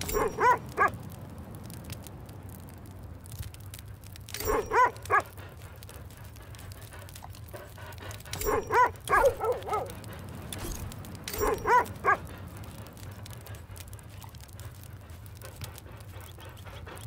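Pups in The Red Lantern game yip and bark in four short clustered bursts at mealtime, each burst a quick run of high yelps separated by pauses over a low steady background hum.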